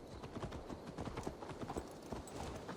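Hooves of a horse being led back in Assassin's Creed Valhalla clop steadily in an irregular walking rhythm, close and prominent over a busy outdoor ambience.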